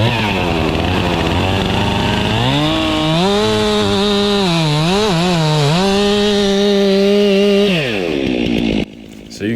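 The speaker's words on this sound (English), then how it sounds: "So you can see right there just how hot we keep our saws." A chainsaw cuts through pine logs at a speed-cutting event, its engine screaming loud and close with a steady high whine that dips and wavers under load, then drops off and cuts out near the end.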